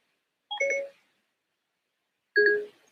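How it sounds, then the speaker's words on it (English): Two short electronic chimes sound on a phone, about two seconds apart, each a brief bright tonal bleep with no talking around them. "Sorry, Siri again on my phone."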